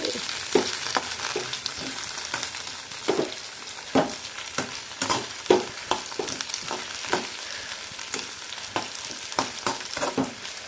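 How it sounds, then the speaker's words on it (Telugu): Ingredients for broccoli soup sizzle in a pan over low heat, a steady soft frying hiss broken by repeated scraping and stirring clatters at an irregular rhythm, close and moderately quiet with no talking. "సిమ్లో పెట్టి బాగా ఫ్రై చేయాలి."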